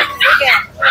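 Young guard-dog puppies at a market yip and whine in quick short bursts, loud and close, within about a second.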